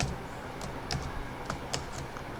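Someone types a short command on a computer keyboard, with a handful of light, separate keystroke clicks tapping out over a soft background hiss.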